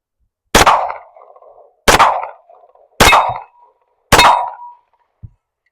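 Four sharp pistol shots from a Centurion 14 ring out about a second apart, each a loud crack with a short metallic ringing tail, followed by a faint click at the end.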